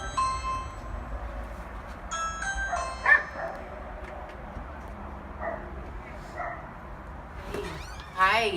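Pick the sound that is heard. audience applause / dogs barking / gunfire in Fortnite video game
dogs barking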